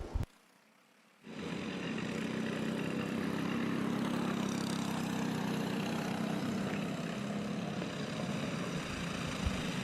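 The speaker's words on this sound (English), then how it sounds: "And a tight battle with 5 karts in that lead group." Four-stroke racing go-karts in a tight five-kart lead pack at Adams Motorsports Park: a steady, loud, blended engine drone that swells in and holds without a break.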